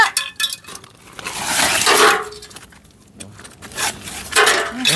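Tin cans clink and rattle in loud, clustered bursts, with irregular metallic jangling rising and falling close by for the whole stretch.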